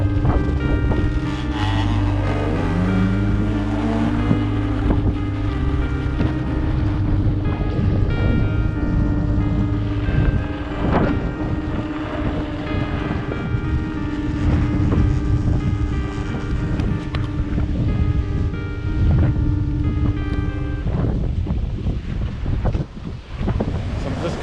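Strong, steady wind buffets the microphone on an open Baja coast near hot springs, a constant roaring rumble with low engine-like hum, no voices.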